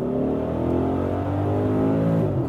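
A petrol Audi V8 performance SUV accelerates out of a corner, its deep engine note rising steadily and loudly throughout with no talking.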